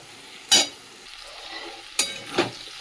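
Cauliflower florets being stir-fried in a cooked spice masala: three sharp spatula scrapes against the pan, spaced apart, over a faint steady sizzle, with no talking.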